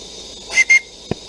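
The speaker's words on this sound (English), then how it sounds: "This engine is fitted with a whistle." Whistle of a coal-fired Roundhouse Lady Anne steam locomotive gives two short, close, shrill toots in quick succession, followed by a brief low knock.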